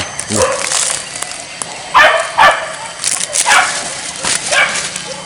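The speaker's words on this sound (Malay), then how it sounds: "Dia jaga salak mak." Several sharp dog barks and yips ring out at close range, spaced irregularly against a busy background with people talking.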